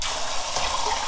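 Cold tap water splashes steadily as blanched butterbur shoots are rinsed in a kitchen, in a brief, close gush.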